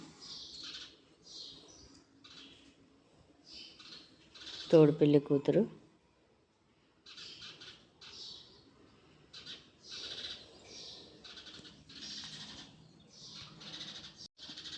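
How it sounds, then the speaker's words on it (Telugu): Sparrows chirp nearby at an outdoor haldi wedding gathering, bursts of quick high tweets coming again and again throughout, with a short stretch of someone talking in between. "నా పక్కన పిచ్చుక సౌండ్ చేస్తుంది, ఇగ్నోర్ చేసేయండి."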